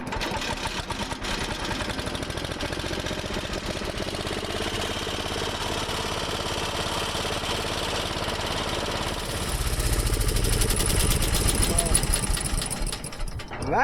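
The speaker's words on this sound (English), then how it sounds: "So put the choke out, throw on a little throttle, and it'll light right away." Engine of a 1972 MTD 960 lawn tractor, choke out and a little throttle, running steadily with a busy mechanical clatter, then catching a louder, deeper note near the end, close by.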